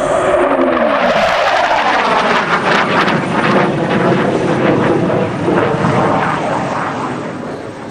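A Hawker Hunter swept-wing jet, a Mach 1.3 trainer with high thrust, roars loudly past at close range, a broad rushing jet noise that swells early and then slowly fades as it moves away.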